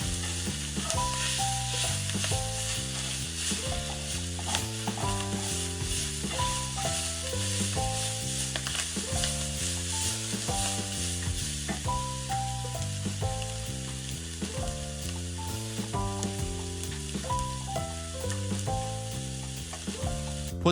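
Minced meat fries in olive oil in a pan with blended tomatoes and carrots, a continuous close sizzle running throughout under steady background music.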